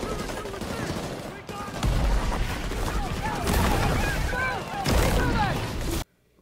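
A grenade launcher fires in a Halo Reach match amid a dense, continuous clatter of gunfire and booming explosions, loud and busy throughout before cutting off abruptly at the end.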